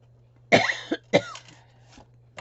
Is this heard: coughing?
yes